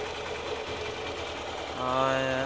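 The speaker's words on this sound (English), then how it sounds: "There is still that tick tick tick tick noise." A Hero Xpulse 200 motorcycle engine idles steadily with a close, even mechanical hum and a faint repeating tick, and the running note rises and grows louder toward the end.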